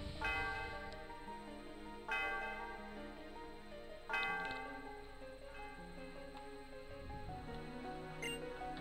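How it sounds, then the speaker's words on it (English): A bell rings in the Pokemon Black video game, three clear chimes about two seconds apart that ring out and fade over soft background music. "why don't you ring the bell?"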